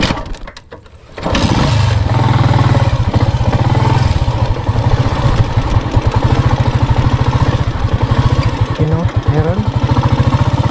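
A motorcycle out on an airgun fishing trip starts up after a quiet moment, then runs with a loud, close, chugging engine clatter that idles and rises slightly in pitch toward the end.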